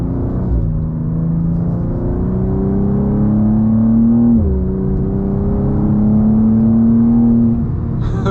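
A BMW M2 CS (G87) with a performance flash accelerates hard, its engine note climbing steadily in loud, close revs with a brief shift dip midway before pulling again.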